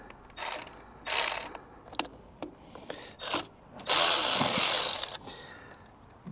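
A screw is backed out of a Bobcat swash plate sensor with a power driver, heard as several short whirring bursts and clicks, ending in a longer sustained spin, close and fairly loud.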